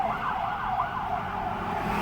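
Police car siren passing by, a wailing rising and falling tone over steady road noise, moderately loud and continuous throughout.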